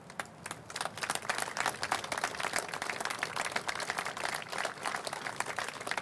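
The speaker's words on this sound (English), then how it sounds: "So I'd like to give a round of applause to all the men and women who did the work." An audience at a ceremony marking the completion of a downtown bridge project applauds construction workers, with dense, steady clapping that swells after a quiet start and holds for several seconds.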